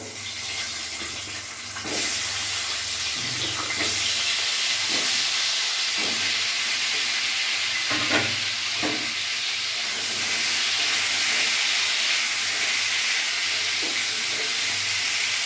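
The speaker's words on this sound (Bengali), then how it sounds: "ওই তেলের মধ্যেই আমি পটলগুলো ভেজে নেব।" Steady hissing sizzle of pointed gourd frying in hot oil over a medium flame, continuous throughout with occasional soft clinks and pops.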